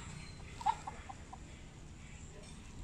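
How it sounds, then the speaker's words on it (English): A faint cluck or two from feral neighborhood chickens near trash bins, brief and somewhat distant, over quiet outdoor background noise. "here's the neighborhood wild chickens that run around and dig in our trash."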